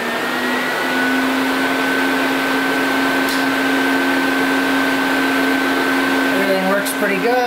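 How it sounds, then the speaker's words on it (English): Electric radiator fans, one 14-inch and two 9-inch pushers mounted in front of the radiator of an LS-swapped car, run together in a loud, steady whir with a constant hum, close up, ending in a brief faint squeak. "We got the 14-inch fan and the two 9-inch fans on the front as pushers pushing in. So I'll turn it on."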